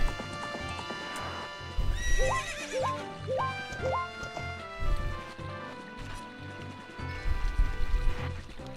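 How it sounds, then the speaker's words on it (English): A horse in The Legend of Zelda: Ocarina of Time clip-clops along with rhythmic hoofbeats and lets out a clear, rising neigh, backed by in-game music. "There you are, you filthy animal. I needed this horse for this short walk over here."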